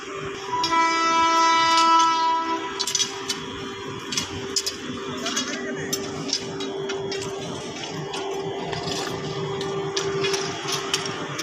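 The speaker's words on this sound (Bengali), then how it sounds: "ট্রেনের আওয়াজ তো আবার খুব ভয় পাচ্ছি আমি" A train running on a rail line, a loud horn blast opening close by, then rumbling wheels and rhythmic clacking carriages continuing steadily.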